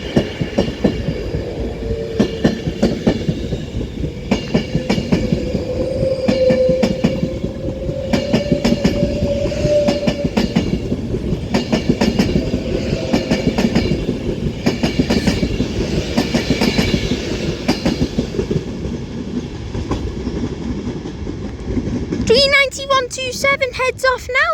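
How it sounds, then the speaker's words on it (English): Avanti West Coast service departing Preston on the West Coast Main Line toward London Euston, wheels clattering in a steady rhythmic clickety-clack as the carriages roll past close by, ending with a brief squeal. "39127 heads off now with the 1432 Avanti West Coast service to London Euston via Birmingham New Street."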